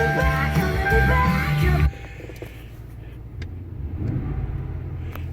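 A Mighty Marauder car engine with a cold air intake and new throttle body starts cold, roaring loudly with a strong droning hum before dropping to a steadier, quieter rumbling idle nearby.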